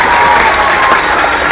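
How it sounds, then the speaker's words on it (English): Loud, dense applause from an audience, a continuous wash of clapping heard up close and steady throughout the brief moment. "A big round of applause for him, please."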